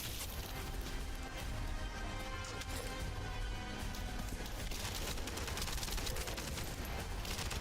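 Dense, rapid gunfire rattles without pause while shooting a boss in a Marvel video game, the shots blurring into a continuous fusillade at moderate loudness.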